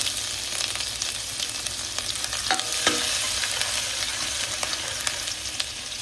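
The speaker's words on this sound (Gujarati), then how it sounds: "સાતળવા માટે મેં 2 ચમચા તેલ રેડી દીધું છે. આપણું તેલ આવી ગયું છે. એમાં 1 ચમચી આદુ મરચાં નાખીશું." Ginger and green chilies sizzle in about two spoons of hot oil for a veg Manchurian, a steady close hiss of frying broken by a few stirring scrapes, with no voices.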